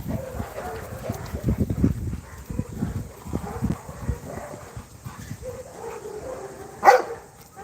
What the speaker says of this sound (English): So it's always some barking going on in this neighborhood